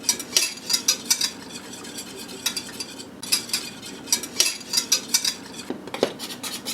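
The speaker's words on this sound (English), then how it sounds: "I can tell by the way the whisk moves through the milk" A whisk stirs milk for Alfredo sauce in a pot, making quick rhythmic scraping clinks against the metal in repeated bursts, close and fairly loud.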